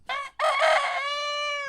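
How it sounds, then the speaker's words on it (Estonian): A male quail crows close by at a farmyard: a short clipped call, a brief pause, then a longer strained, raspy crow that fades out at the end, clear and alone. "Vutikuked juba kirevad."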